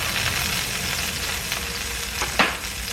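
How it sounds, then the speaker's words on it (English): Steady hissing sizzle of water hitting a hot pan, continuous and close, with a brief louder crackle near the end. "you could see that the water's already sizzling"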